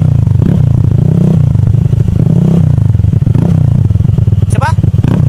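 Honda Click 150i scooter with a Yoshimura R77 full-system exhaust, no silencer, revving close and very loud: a raspy, rumbling idle that swells in repeated throttle blips, with metallic clatter near the end.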